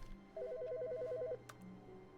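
In the video game The Stanley Parable, a telephone rings with a quick warbling electronic trill lasting about a second, heard faintly and alone over a quiet room tone, followed by a soft click.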